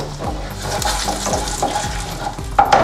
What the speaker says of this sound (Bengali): এই তেলের মধ্যে আমি সাদা জিরে, গোটা সাদা জিরে, শুকনো লঙ্কা, তেজপাতা আর গরম দারচিনি,